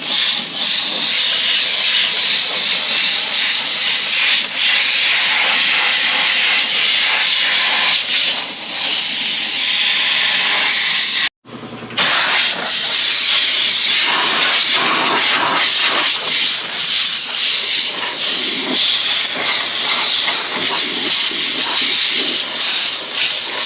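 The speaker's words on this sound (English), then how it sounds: "I guess while I got the blower out, I blow the radiator out on this." An air blower roars loudly and steadily as it blasts dust out of a dusty radiator during maintenance, a close, continuous rushing hiss broken by one brief cutoff near the middle.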